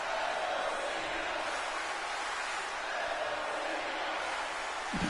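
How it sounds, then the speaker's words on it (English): A large arena crowd roars in the WWE 2K22 wrestling video game during a wrestler's entrance, chanting "Let's go Cena." The wash of noise is steady and dense throughout and sounds distant rather than close. "Crowd chanting, "Let's go Cena," in the middle of an entrance."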